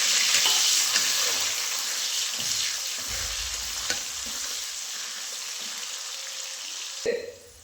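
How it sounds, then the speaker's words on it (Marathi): Green chilies fry in a pan for sabudana, a loud, continuous hiss and sizzle with occasional stirring scrapes, ending in a brief clatter. "आता शाबूसाठी मिरची टाकते."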